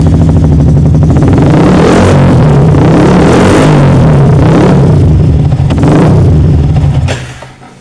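Yamaha R15 motorcycle with an overvoltage charging fault, its engine revving loudly and close with a steady droning idle punctuated by several throttle swells, then cutting off abruptly at the end.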